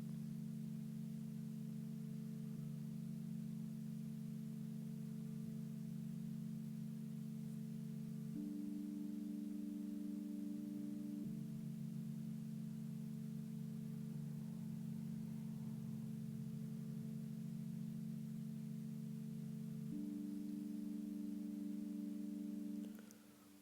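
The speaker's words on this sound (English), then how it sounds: "go to your Alchemy synths and go to your mallets again, and make sure you click on metallic atmosphere because we're gonna need to click on the dark chimes" Soft sustained synth chords from an Alchemy mallet preset with dark chimes and a metallic atmosphere, low droning tones that shift chord twice, quiet and smooth with no talking.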